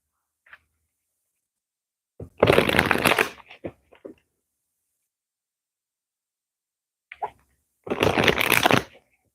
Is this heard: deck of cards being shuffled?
yes